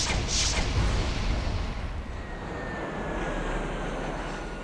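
Aircraft in Sid Meier's Alpha Centauri roar past in a broad, loud engine rush, starting with a sharp burst and trailing off into a sustained whooshing drone that holds to the end.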